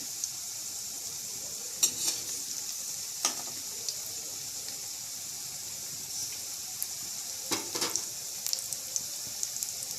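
Boiled potatoes frying in oil with poppy seeds, a soft, steady low sizzle with a few brief clatters from turning the pieces.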